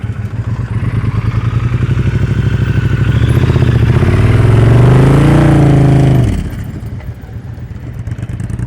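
A motorcycle ridden at slow speed during an advanced slow-speed riding practice session, its engine a steady, close, low putter that swells into a louder rev midway before dropping back to a quieter idle-like rumble.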